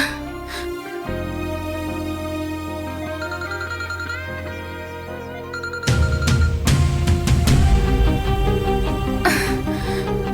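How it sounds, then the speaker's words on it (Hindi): A telephone rings in a domestic drama scene, a loud repeating electronic ringtone pattern that continues throughout, with fuller musical backing joining midway. "फोन पिक करो।"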